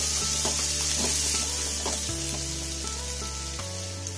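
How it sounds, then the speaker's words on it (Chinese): Green and red peppers stir-fry in a hot wok with a loud, steady sizzle and occasional scraping stirs, with no voices. "再加入青红椒爆炒，"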